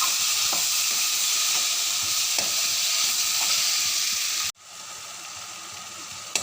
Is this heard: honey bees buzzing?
no